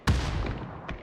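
Gunfire in the battle royale game PUBG during a competitive esports qualifier match: a sharp, booming shot with a ringing tail, then a second, softer report just under a second later.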